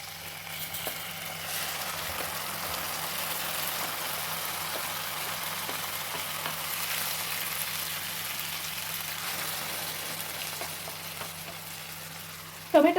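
Chopped tomatoes frying in a pan with garlic and onion already browned golden: a steady, even sizzle that runs unbroken for several seconds, with a few light clicks near the end and no speech.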